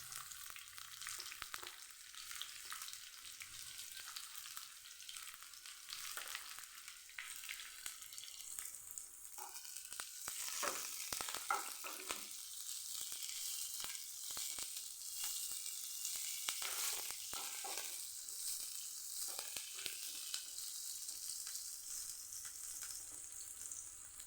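Onion pieces frying in oil with dried red chillies in a pan for tomato bath, a steady bright sizzle with occasional crackles and stirring, fairly close, no talking.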